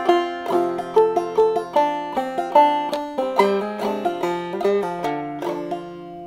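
Clawhammer banjo picks the A part of the fiddle tune Mulberry Gap, a steady rhythmic run of bright plucked notes with drop-thumb strokes, close and clear with no voice.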